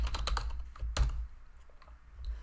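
Keys on a computer keyboard are typed in a quick burst of close, crisp clicks, followed by a few scattered taps over a low background hum. No one speaks.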